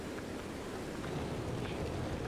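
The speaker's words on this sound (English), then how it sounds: "Wind and rain." Steady hiss of rain and wind in the video game Ico HD, a dense, even wash of noise with no pauses.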